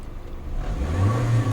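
A Peugeot 508 with an engine oil pressure fault revs up under acceleration, its engine note rising into a strong, steady hum that grows louder and holds near the end.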